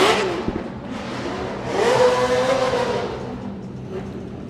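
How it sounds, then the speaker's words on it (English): A NASCAR-engined drift car roars and revs during a burnout at a Drift Masters event in Germany, heard as loud, rising and falling engine surges with a broad noisy wash. "Not that many races left to hear that beast of a NASCAR engine SX 180 in Drift Masters"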